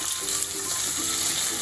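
Onion frying in hot oil in a pan, a steady close sizzle and crackle that fills the short moment without any talk.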